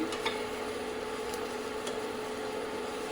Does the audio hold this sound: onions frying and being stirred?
yes